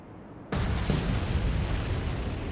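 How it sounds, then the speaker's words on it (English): A big explosion in the naval combat game Atlantic Fleet erupts suddenly as a loud, broadband boom that stays as a sustained roaring rumble after the blast, with no talking. "Okay, that's a big explosion behind."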